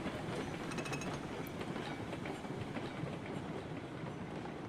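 A locomotive in the RailRoads Online video game rumbles along the rails with a continuous, fairly quiet rolling drone and faint rhythmic clicking of wheels over track joints.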